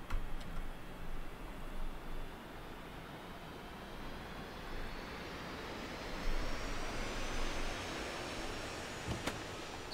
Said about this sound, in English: And that's the right engine on.